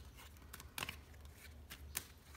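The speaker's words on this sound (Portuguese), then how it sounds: "Vamos embaralhar de novo aqui." Tarot cards are shuffled during a reading, giving faint, soft riffling and brushing with a few sharper flicks, close but quiet, and nobody speaks.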